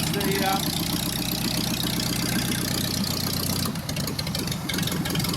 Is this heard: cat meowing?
no